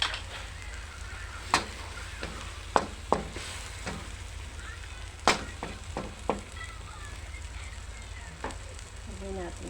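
Shrimp and mixed vegetables sauté with soy sauce in a pan, giving a low steady sizzle broken by scattered sharp clinks and scrapes of a utensil stirring.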